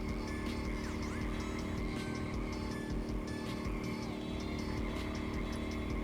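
A Cosworth engine in the drifting video game Drifto drones at a steady, unchanging RPM, a dense, continuous buzzing hum that stays loud and even throughout with no talking.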